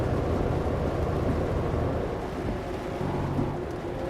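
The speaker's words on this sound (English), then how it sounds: "Got a bit of poor weather as well with the rain." Steady rain falls in Euro Truck Simulator 2 as a dense, constant hiss and patter that stays loud and even throughout, with no talking.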